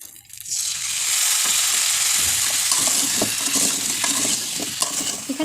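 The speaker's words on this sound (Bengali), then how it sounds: "এখানে চিনিটা দিয়ে ভালোভাবে নেড়ে নিচ্ছি।" Sugar is stirred into a sweet, sour and spicy olive pickle in a hot pan, making a loud, close sizzle with repeated scraping and thick bubbling crunches as the spoon moves.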